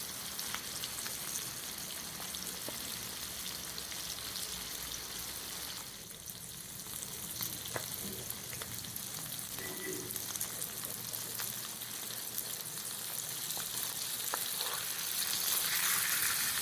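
Masala-coated fish frying in hot oil, a steady soft sizzle with faint crackles and pops throughout, fairly quiet and close, with no talk over it.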